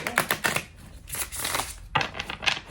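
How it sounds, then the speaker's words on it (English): Tarot cards being shuffled by hand in bursts of quick riffling and rustling flutters, close and fairly soft, with a brief pause before a final flurry. "let me shuffle this again"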